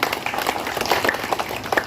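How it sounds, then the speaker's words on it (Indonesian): A crowd at a community constituency gathering in Brebes, Indonesia claps for a guest, a continuous patter of many hands with scattered sharper individual claps, moderately loud and steady. "Tepuk tangan buat Ibu Messi."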